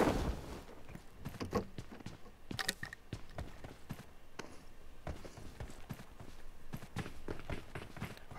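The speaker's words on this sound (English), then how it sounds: "so I hear footsteps here" Footsteps from the PUBG Mobile video game, rapid and irregular, running across hard ground alongside other soft in-game thuds and scuffs, moderately loud with no talk.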